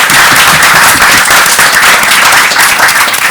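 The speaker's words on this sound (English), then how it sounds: "let's give John a round of applause as he leaves anyway" An audience applauds a departing speaker at a panel event, a dense, loud, steady roar of clapping that fills the whole stretch with no voices over it.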